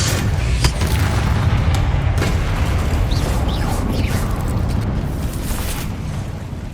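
Incendio fire spell blasts in Hogwarts Legacy, a loud, sustained roar of booming, crackling bursts with a few whooshing swells, without a break from start to finish.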